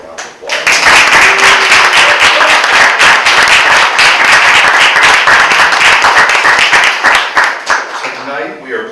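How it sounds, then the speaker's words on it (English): An audience applauds volunteers and board members at a Victorian Romance stage evening at Park McCullough House, with steady, dense clapping that swells quickly and holds loud for most of several seconds before fading out. "we're going to give them a big round of applause"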